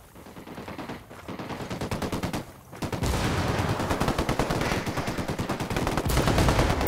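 Rapid automatic gunfire in Ghost Recon Wildlands, starting as sparse bursts and then becoming a loud, continuous hail of shots from about three seconds on.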